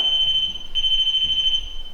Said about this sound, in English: When something touches it, it sounds an alarm and lights up.